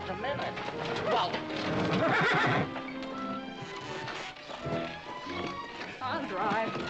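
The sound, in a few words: horse neighing and hooves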